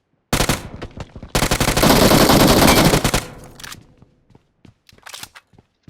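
Gunfire in a mobile shooter video game rattles out as a loud burst of rapid automatic fire, a short pause, then a longer sustained stream of shots that gives way to scattered single cracks.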